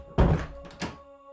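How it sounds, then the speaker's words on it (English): A kitchen door bangs open with a solid thunk and closes again moments later with a softer knock, two quick, close impacts in an otherwise quiet room. "Then the door on the other side of the kitchen opens and closes just as quickly."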